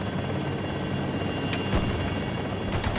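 A helicopter flies close by, its steady, loud rotor chop and whine continuing throughout, with a couple of sharp bangs rising briefly above the drone.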